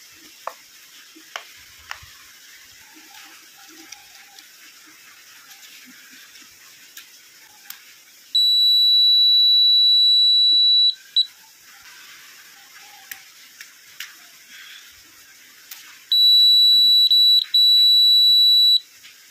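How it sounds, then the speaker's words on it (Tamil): A homemade fire alarm's shrill electronic beep sounds in two long, loud bursts, stopping briefly between them, over faint background hiss and occasional small clicks. "இப்போ வந்து ஃபயர் அலாரம் வந்து நம்ம வீட்டிலே வந்து ரெடி ஆகிடுச்சு."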